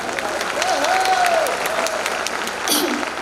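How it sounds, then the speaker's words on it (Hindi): Audience at a Hindi comic poetry recital claps briefly at the poet's request, a short burst of applause heard under and around a speaking voice at the Tapti Mahotsav. "इसलिए एक बार ये मोहल्ला और ये मोहल्ला तालियां बजाकर बताए।"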